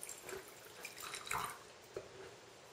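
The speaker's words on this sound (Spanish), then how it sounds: "poner un poco de agua" Water pours gently into a ceramic tea bowl during a Japanese tea ceremony in Tokyo. A soft, steady trickle carries a few faint drips and splashes, heard up close and quiet with no talking.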